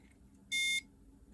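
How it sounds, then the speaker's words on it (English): A single short electronic beep, about a third of a second long, from a Tomy Tronic Sky Attack handheld game that had corroded battery terminals, heard alone and fairly loud over a faint room hum. "That's a nice beeping noise to hear."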